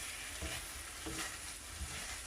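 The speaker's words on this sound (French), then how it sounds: "on continue à mélanger jusqu'à que les œufs brouillés se forment" Scrambled eggs being stirred in a hot pan while frying for pad thai, a faint continuous sizzle with soft periodic scrapes of the utensil.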